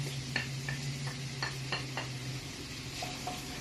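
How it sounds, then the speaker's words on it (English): Onions sizzle steadily in hot oil, with a low hum underneath and several light scraping taps from a utensil stirring the pan. "I'm gonna give that a stir and let them fry a little bit"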